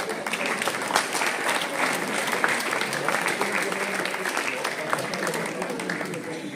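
Audience applause at a pre-feast singing event in Tasovice: dense, continuous clapping from a sizable crowd, loud and even throughout, with a few voices mixed in.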